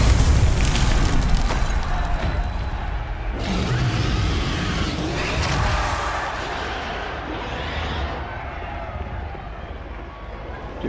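Confringo explosion spell cast in Hogwarts Legacy: a loud blast with a booming low-end burst near the start, followed by further rumbling impacts and fading crackle, under steady game ambience.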